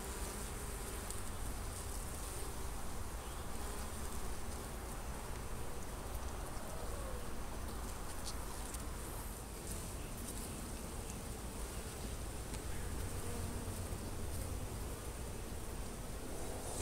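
Bees buzzing around a beehive box with few bees left inside after a split, a faint, steady, continuous hum under a noisy outdoor background with no speech.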